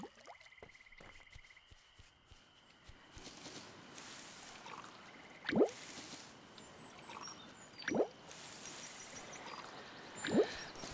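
Water being collected in the game Stranded Sails, heard as a few soft splashing, pouring bursts spaced a couple of seconds apart over a faint game backdrop with light chimes.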